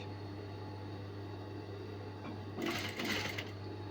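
A sewing machine stitches a gathered cupcake ball dress in a steady, quiet run, with a louder burst of stitching near the end.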